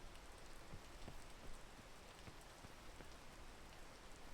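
Steady rain falls in the PEAK video game, a dense, even hiss that holds at a fairly constant level throughout with scattered soft drop ticks and no talk.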